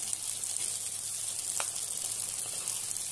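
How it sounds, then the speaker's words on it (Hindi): Ground green peas dropped into spiced masala frying in a pan for UP-style matar nimona, giving a steady soft sizzle with a brief crackle partway through, no voices. "मसाले हमारे भुन चुके हैं, इसमें अब हम डाल देंगे पिसी हुई मटर।"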